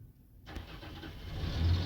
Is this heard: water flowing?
no